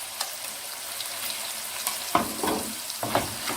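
Kofta fries in a pan after taking on color, giving a moderate steady sizzle broken by a few louder bursts of spatter and stirring near the end.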